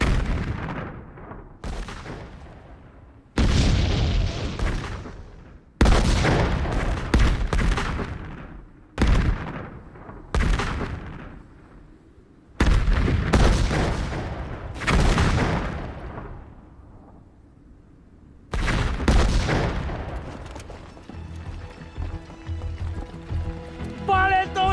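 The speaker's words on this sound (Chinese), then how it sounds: "这一轮的轰炸炮弹量明显减少" Artillery shells pound a Korean War battlefield in a war film, a string of heavy, booming blasts arriving in separate bursts with short gaps between them, loud and close, with voices heard in places.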